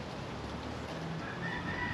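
A rooster in Puerto Rico crows and clucks faintly at a distance, a brief call over steady outdoor ambience.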